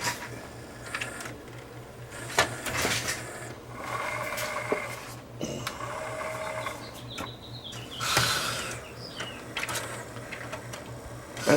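A Sony MEGA CD changer (CDP-CX225/CX240 type) with an intermittent stopping fault runs its mechanism in a close, steady whir with scattered clicks and rasping knocks, then winds down and falls quiet.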